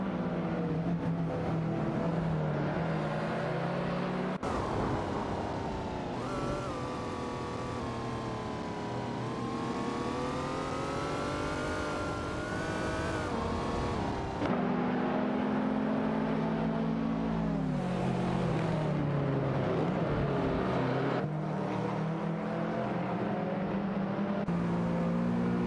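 Mercedes race cars in a racing video game, engines whining and revving continuously with rising and falling pitch as cars overtake, loud and sustained with shifts where the scene cuts.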